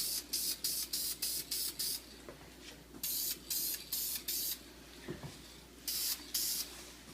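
Short bursts of spray paint hiss in repeated pulses, then longer sprays, as an airbrush or spray can coats the roof of an HO scale GP35, GP38 or GP40 diesel locomotive model from both sides; close and fairly steady, with no talk.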